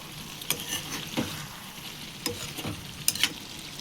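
Tomato and brinjal pieces fry in a curry pan, giving a soft steady sizzle broken by a few sharper scrapes and clinks as the mix is stirred.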